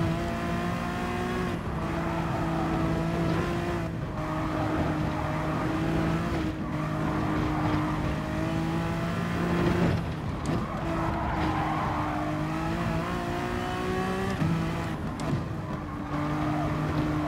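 The Honda NSX Gr3 race car in Gran Turismo Sport drones loudly and steadily from its engine, with gear shifts and rising and falling revs and occasional brief tyre squeals throughout.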